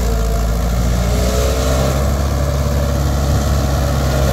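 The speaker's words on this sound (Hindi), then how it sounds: "तो तीसरे के लो में ट्रैक्टर को कुछ प्रॉब्लम आ रही है खींचने में" A Mahindra 575 XP Plus tractor engine straining to pull a cultivator in third low gear, a loud, steady diesel drone with deep low rumble held evenly throughout, no voices.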